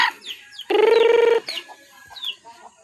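A chicken clucks and squawks up close, with a loud drawn-out call in the middle surrounded by shorter chirpy clucks, no talking.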